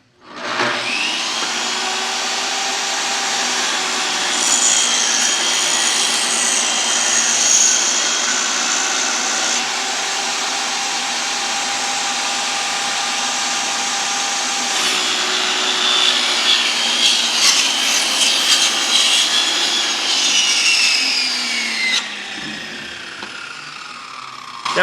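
A power saw cuts a wooden window trim piece during tiny house finish work, a loud continuous whine holding steady for over twenty seconds before winding down at the end.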